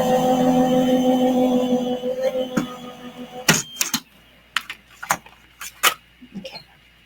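A die-cutting machine runs a card through, giving a steady mechanical whir for a few seconds before it stops and gives way to scattered sharp clicks and taps, close up.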